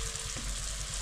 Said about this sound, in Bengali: এখন দিয়ে দেবো ভাজা মাছগুলো